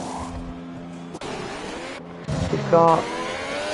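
Race cars in a Mexico sim racing league event roar and jostle as one overtakes another, engine tones rising and shifting over a few seconds beneath a commentator's voice.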